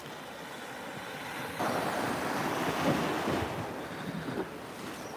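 Surf washing onto Meads Bay beach in Anguilla, a steady roar of breaking waves with wind buffeting the microphone, swelling louder after the first second and a half, with no voices.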